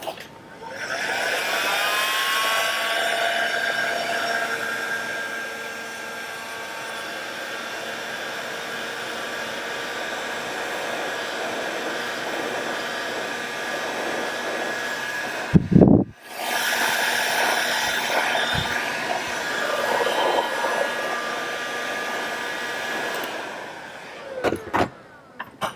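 A heat gun blows continuously while shrinking heat shrink tubing on an outboard motor's starter cable, a steady loud airy whoosh that stops briefly midway with a click, then resumes before shutting off.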